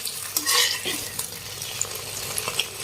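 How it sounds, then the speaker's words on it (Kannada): Egg frying and being stirred in a pan for street-style egg noodles: a steady sizzle with scraping spatula strokes and light metallic clinks, close and alone. "ಈ ಮಿಕ್ಸ್ ಮಾಡ್ಕೊಂತ ನೋಡ್ರಿ ಫ್ರೆಂಡ್ಸ್ ಚಲೋತ್ನಾಗ ಇದನ್ನ ಫ್ರೈ ಮಾಡ್ಕೊಳ್ಳೋಣ್ರಿ ಎಗ್"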